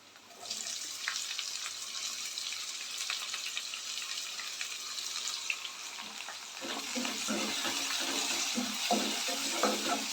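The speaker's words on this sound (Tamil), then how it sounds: "ஆனியன் வந்து நல்லா வதங்கட்டும் கலர் மாறட்டும்" Chopped onions sizzle steadily in a hot pan, frying until they change colour, a constant crackling hiss, with stirring scrapes and clatter joining in toward the end.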